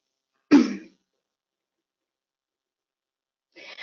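A person getting over a cough clears their throat once with a short, loud, close burst, followed by about three seconds of silence and then a fainter, breathy rasp.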